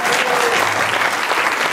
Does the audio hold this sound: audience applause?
yes